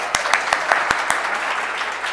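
Audience at a December 2014 Cradle to Career community meeting clapping to send presenters off stage, a steady crowd applause with a few sharper individual claps standing out.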